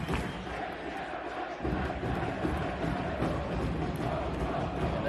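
Stadium crowd at an LA Galaxy versus LAFC soccer rivalry match, a dense continuous roar of chanting and shouting that swells slightly after the first second and holds steady, loud and enveloping.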